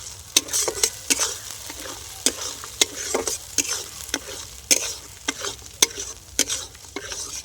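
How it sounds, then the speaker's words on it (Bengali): A spoon stirs flat bean paste in a frying pan: a soft sizzle runs beneath sharp, irregular scrapes and clicks against the pan, close and fairly brisk. "ওটা খুব ভালো করে কিছুক্ষণ আমি নেড়ে চেড়ে নেব"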